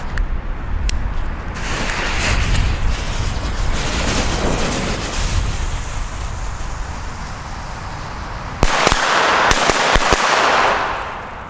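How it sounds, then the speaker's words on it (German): A ring of Dum Bum Black Edition firecrackers goes off outdoors, a dense, continuous crackling barrage of rapid bangs lasting several seconds, then a final burst of louder sharp blasts near the end. "Und jetzt natürlich zum Schluss des Videos noch einen richtig schönen Böllerkreis."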